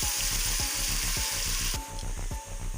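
Garlic ginger paste sizzles steadily in a hot pan, a loud, close frying hiss with rhythmic stirring scrapes, for a dhaba style chana dal.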